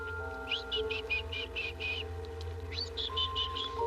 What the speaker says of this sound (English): A Mexican parrot. Oh, doesn't he talk loud?